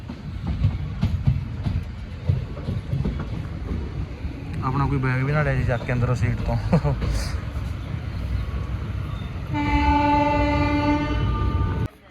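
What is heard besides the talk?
train running with horn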